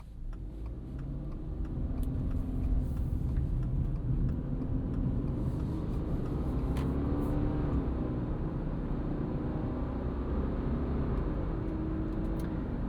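A 2026 Subaru Forester Wilderness with a boxer engine pulls onto a highway, its steady engine drone and road rumble building after the first couple of seconds and holding evenly, heard from inside the cabin.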